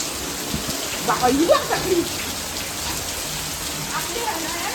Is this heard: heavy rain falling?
yes